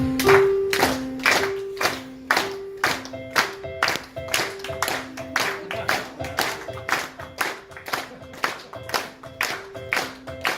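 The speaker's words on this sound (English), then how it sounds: "Clap, clap, clap" An audience at a wedding best man speech claps along in a steady rhythm, sharp regular claps repeating for several seconds alongside a sustained musical tone pattern.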